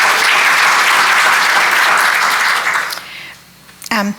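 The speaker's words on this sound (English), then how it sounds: "So let's give them a round of applause." Applause at a candidates' forum, a dense burst of crowd clapping for about three seconds that quickly dies away, followed by a brief voice at the end.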